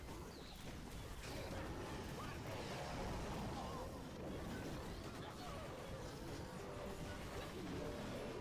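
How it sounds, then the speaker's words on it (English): Strong wind blowing outdoors, a steady loud rushing roar with buffeting gusts that fills the whole clip. "it is windy out right now, Chad."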